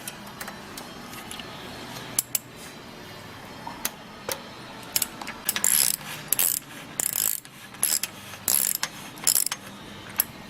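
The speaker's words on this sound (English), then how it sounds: "loosen it a couple of turns just to take the pressure off it" A tool loosening the bottom bracket of an electric bike, with rapid ratcheting clicks in uneven bursts over a steady low mechanical background.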